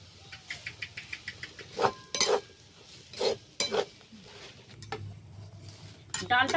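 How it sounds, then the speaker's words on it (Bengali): Ground lentil paste is stirred and fried in a pan with a spoon, giving quick scraping and clinking strokes, first in a fast rhythmic run and then in slower, heavier scrapes. "এবার একসাথে নেড়ে আমি ডালটাকে ভেজে নেব।"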